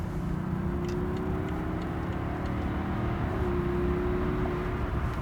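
A 2011 BMW 740d xDrive F01 accelerates hard, heard from inside as a steady diesel engine drone rising in pitch under road and wind noise.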